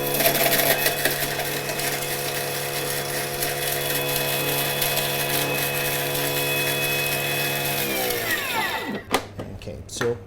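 A Thermomix runs at high speed grinding nutmeg and cinnamon: a loud, steady motor whine with a continuous high rattle that holds for about eight seconds, then spins down and stops, leaving a few faint clicks.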